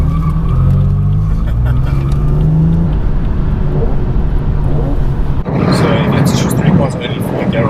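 A performance BMW M3 or M4 engine revs loudly and steadily nearby, its pitch rising and falling, and the exhaust opens up harshly toward the end.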